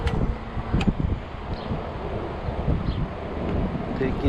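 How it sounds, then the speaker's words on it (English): Strong gusty wind buffets the microphone during a ride on an Ecotric 20-inch 48V fat tire e-bike on a windy 83-degree day, a loud continuous low roar that swells and dips throughout. "Yeah, very windy day."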